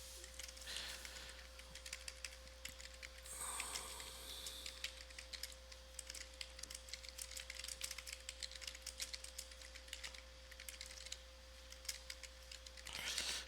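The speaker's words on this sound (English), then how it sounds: "this is the box where you would type your comments in" Typing on a computer keyboard, entering comments for a school discipline referral. Soft, quiet key taps run steadily through the stretch over a constant electrical hum, with no talking.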